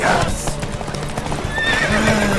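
A horse galloping in a race in The Witcher 3: Wild Hunt, rapid clip-clopping hooves loud and close, while a horse neighs over the rushing hoofbeats.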